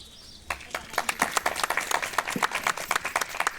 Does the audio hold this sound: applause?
yes